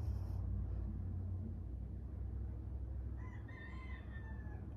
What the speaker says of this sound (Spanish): Oye, mis gallos, ya tenemos gallos.